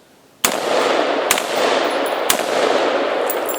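Shotgun fired at a target outdoors: three shots about a second apart over a steady loud rushing background, each a sharp brief crack.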